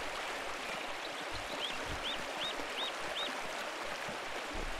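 Waterfall in the video game Pentiment, a steady, full rushing hiss of falling water, even and unbroken throughout, with a few faint chirps on top and no voices.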